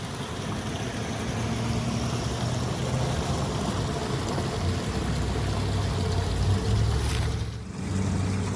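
A spring-fed creek in fire-burned hill country flows in a continuous, fairly loud rushing wash, holding steady for several seconds with a brief dip near the end.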